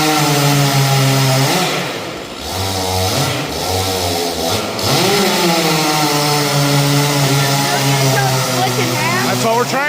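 A chainsaw cuts through a log that is being split in half, its engine droning loudly and shifting pitch as it bogs and revs under load, with people talking over it.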